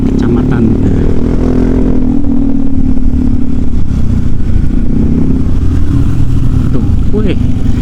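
A motorcycle engine drones loudly and steadily close by, with a low rumbling hum and rattling, while a person talks over it.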